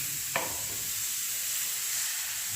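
Grated carrot fries in a hot pan over a medium gas flame, giving a soft, steady sizzle with a brief scrape of stirring near the start.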